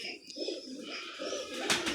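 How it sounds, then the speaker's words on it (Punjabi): Teddy pigeons on a rooftop coo softly in low, rolling throaty calls, repeated close by, with a few faint chirps and light background noise and no talking. "ਲੋ ਜੀ ਇਹ ਟੈਡੀ ਕਬੂਤਰ ਜੇ 9-10ਵਾਂ ਬਰਾਬਰ ਜੇ"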